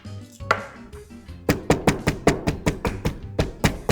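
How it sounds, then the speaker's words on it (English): Whole peppercorns are cracked on a kitchen surface as a fast run of about twenty sharp, close knocks, starting hesitantly and then settling into a quick, even rhythm, with no speech. "Crack up some gorgeous peppercorns."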